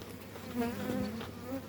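Honeybees buzz around an opened hive during beekeeping work, a close, wavering hum with a few individual insects droning past, fairly faint and short, no talking.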